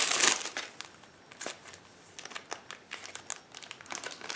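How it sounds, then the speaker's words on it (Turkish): Crinkly plastic packaging is pulled open, with a sharp burst at the start and then irregular rustling and crackling, close and fairly quiet, with no talking. "Gene bir ambalaj. Böyle plastik poşet gibi."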